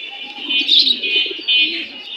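Lotan pigeons coo and call steadily at a busy pigeon market in Mirpur, Dhaka, a continuous close flutter of bird sounds with faint market murmur beneath.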